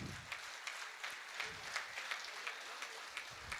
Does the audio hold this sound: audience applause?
yes